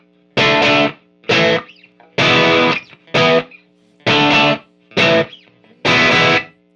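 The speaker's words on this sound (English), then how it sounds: "it's right at the edge of breakup, so I can do, you know, it'll just get a little grindy." A custom Hiwatt 40 valve guitar amp set at the edge of breakup gives a slightly gritty, grindy electric guitar tone. Seven loud chord strums ring out in short bursts with brief gaps between them, close and without talk.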